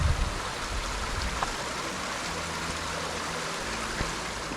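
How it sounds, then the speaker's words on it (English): Steady, broadband rushing of a waterfall beside a hiking trail in Babcock State Park, a continuous, even wash of falling water at moderate distance with no voices. "There's the waterfall by the trail."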